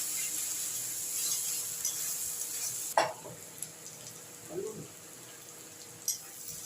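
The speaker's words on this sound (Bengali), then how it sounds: "এবার এগুলোকে গন্ধ যাওয়া পর্যন্ত আমি একটু ভাজা ভাজা করবো।" Garlic and ginger fry in a pan with a quiet, steady sizzle, broken by a few clinks and scrapes of a spoon stirring, all fairly faint and without talk.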